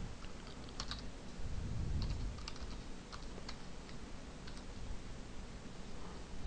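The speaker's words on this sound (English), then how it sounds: "We're going to type in name and email" Soft, rapid keystrokes on a computer keyboard as a name and email are entered into a web form, a quiet run of irregular clicks over faint room hum with no talking.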